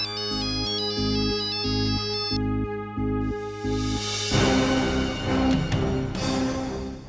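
A mobile phone in a TV serial scene rings with a repeating electronic melody that sounds clearly and on its own, then gives way to a brighter, noisier tone partway through.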